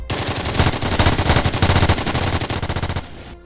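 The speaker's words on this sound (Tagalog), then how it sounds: "nakarinig siya ng sobrang daming putok." A dense burst of rapid automatic gunfire as a sound effect in a spoken horror story about soldiers at a tent camp: loud, continuous crackling shots for about three seconds, then a sudden stop.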